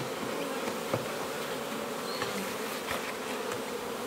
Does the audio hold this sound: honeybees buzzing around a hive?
yes